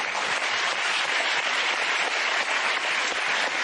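A television studio audience applauds the founder of Cirque Plume, a broad, even wash of many hands clapping that holds steady throughout and covers any other sound.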